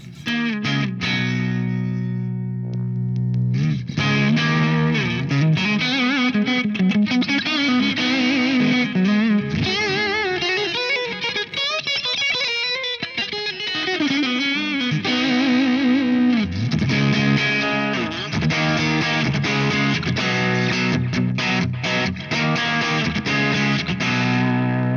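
Electric guitar through a Sonulab Stompstation overdrive clone pedal, a thick distorted tone with sustained chords and melodic lines played continuously and loudly for the whole stretch, no talking over it.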